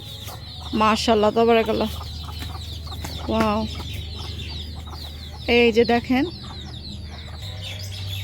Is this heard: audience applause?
no